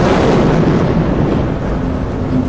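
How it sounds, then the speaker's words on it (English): A deep, sustained roar from a building demolition blast fills everything, loud and rumbling with no distinct onset, heavy low-end noise continuing without voices. "There was a huge explosion, rocked the general area"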